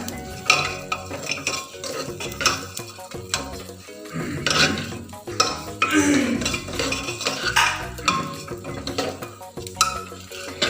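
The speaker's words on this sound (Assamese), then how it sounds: "তাৰপাছত লৰাই দিছোঁ" Butter and ghee being stirred in a pot while making pulao, with clanking metal utensil strikes and scraping against the pot, irregular and close, plus a light frying sizzle.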